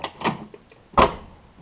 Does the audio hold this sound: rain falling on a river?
no